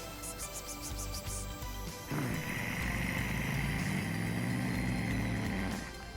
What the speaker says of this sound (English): Sounds like a motorcycle.